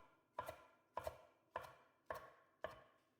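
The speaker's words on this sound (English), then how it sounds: "Roughly chop the herbs." A knife roughly chopping parsley and mint leaves on a cutting board, five evenly spaced crisp chops, close and alone with no talk.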